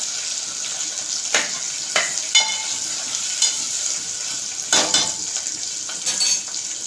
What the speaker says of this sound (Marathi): चांगलं तेलात सुद्धा आपल्याला परतून घ्यायचं आहे थोडं सरसरणार